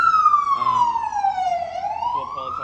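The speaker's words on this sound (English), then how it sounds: "There was a siren going past me, so yeah, it was pretty loud." A siren wails from a vehicle passing nearby, loud and clear, its tone gliding down, then sweeping back up, with faint traffic noise beneath.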